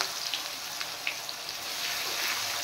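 Chopped onions hit hot oil already seasoned with bay leaf, whole cumin and dried chilli, giving a steady close sizzle with scattered crackling pops throughout.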